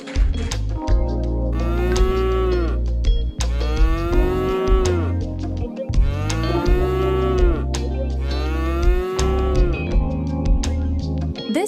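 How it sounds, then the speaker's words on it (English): A cow moos in four long, loud, drawn-out calls with short gaps between them, close up and with no other sounds. "It's a cow."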